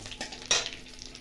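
Whole poppy seeds and cumin frying in a pan while being stirred, a soft sizzle with one quick scrape of a spoon near the middle.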